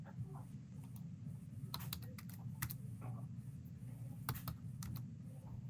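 Keys clack on a computer keyboard during a Python programming lesson, with short bursts of typing scattered over a steady low background hum.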